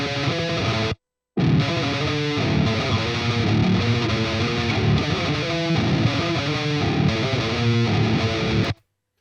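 A heavily distorted electric guitar riff pitched down, loud and muddy with a flubby low end, plays continuously apart from one brief gap near the start and cuts off cleanly at the end, with no voices.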